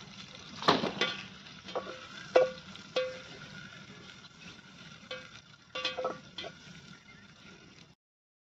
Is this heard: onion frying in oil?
yes